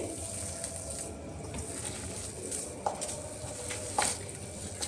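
Milk cream is squeezed and kneaded by hand in a bowl to make homemade ghee, giving soft wet squelches and faint splashy rustles, close and quiet, with no talk.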